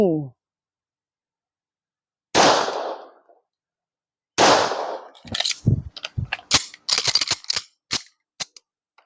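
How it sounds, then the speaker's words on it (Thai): Two loud 9 mm gunshots are fired into a wardrobe of hanging clothes, a couple of seconds apart, followed by a quick run of sharp clattering knocks. "ยิงตู้เสื้อผ้าที่มีเสื้อผ้าแขวนอยู่ห้าตัวด้วยขนาด9 มม 2 นัดบรรจุครับ"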